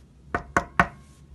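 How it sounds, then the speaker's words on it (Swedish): Three quick, evenly spaced knocks sound on the gate of a medieval monastery, close and distinct against a quiet background, with no voices. "Vem är det som knackar på klostrets port?"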